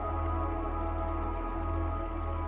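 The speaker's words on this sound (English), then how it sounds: "hear the water gurgling down" Water gurgling and trickling down a stone spring along an outcrop of rock, a steady close babble with soft drips over a constant low hum, with no voices.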